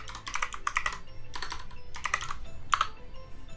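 Keystrokes on a computer keyboard as a command is typed in a terminal, arriving in several quick clustered bursts of clicks at close range with short pauses between them, no talking.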